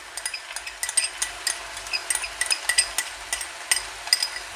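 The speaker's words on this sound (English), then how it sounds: "I'm just going to give all of that a good mix up." Pad See Ew sauce of oyster sauce, sugar and sweet sauce being stirred through pork in a hot pan, with a soft sizzle under repeated light scraping and clinking of a utensil against the metal, close and steady with no talk.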